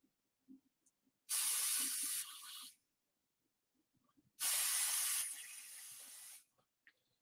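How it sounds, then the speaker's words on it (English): Two bursts of Pixie Spray aerosol hiss out, each lasting about a second and a half, close and loud, separated by quiet with faint handling taps. "I'm now going to grab some more of the Pixie Spray."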